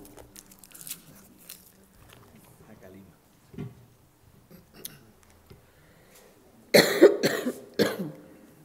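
A few sharp, harsh coughs burst out close by near the end, after quieter stretches with small rustles and faint mouth sounds.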